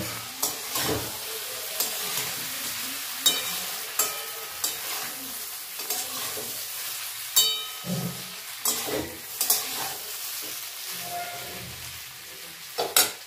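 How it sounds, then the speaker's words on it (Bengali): Small chuno fish sizzling and frying in a pan while being gently stirred, with soft scraping and clinking of the spoon over a steady crackle, close and moderately loud with no talking. "এখন আমি মাছগুলো ছেড়ে দিচ্ছি। এবার ভীষণই আস্তে হাতে এই মাছগুলো মিক্স করব।"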